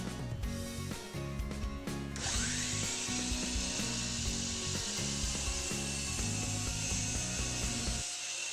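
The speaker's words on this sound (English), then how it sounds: "make a trial cut on a piece of scrap material before attempting final cuts to make sure the saw is cutting properly" A miter saw making a trial cut through scrap wood, a loud close motor whine with a harsh rising cutting tone that holds steady for several seconds.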